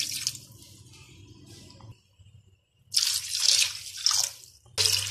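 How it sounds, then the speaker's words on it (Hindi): Water poured into a pot of meat being cooked for Kabuli pulao, a steady trickle that stops briefly and then returns as brighter splashing bursts, heard close and alone. "अब हम इसके अंदर 4 ग्लास पानी के ऐड करेंगे।"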